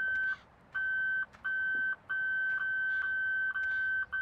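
A coin collectible in Farming Simulator 17 on the Pleasant Valley map gives off a repeating electronic beep, a thin steady tone sounding about six times in uneven pulses, fairly quiet over low background noise.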